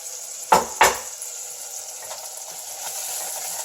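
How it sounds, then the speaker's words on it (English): Greek yogurt cooks in a frying pan for a spicy chicken curry, with two sharp scraping clatters of a utensil against the pan at the start, then a faint steady sizzle underneath. "And again, I cook the yogurt"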